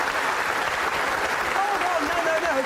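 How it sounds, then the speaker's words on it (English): Studio audience at a TV car show applauding in a steady, even wash of clapping, with a voice speaking over it throughout. "Think what you're applauding"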